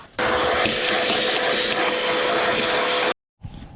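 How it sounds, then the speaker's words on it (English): A vacuum cleaner sucks caked dust and dirt from around the fuel pump of a rust-damaged 2011 Chevrolet Silverado, a loud steady whining roar for about three seconds that cuts off abruptly, followed by a short quieter burst. "I'm going to vacuum some of this dust and dirt out from around here"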